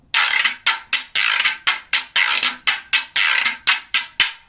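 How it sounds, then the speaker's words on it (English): A guiro is scraped in a rhythmic pattern, long strokes alternating with short quick ones, each a bright ratcheting rasp, close and loud. "here's something that I have called a whirro, and I can scrape it to make a sound"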